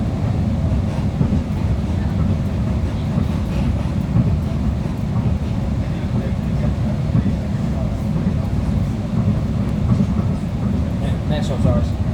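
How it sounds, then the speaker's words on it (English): A fast tram on an Edinburgh line runs along its rails, a steady low rumble and rattle of wheels heard from inside the car, continuous and fairly loud, with people talking over it. "You have to admit the trams are fast."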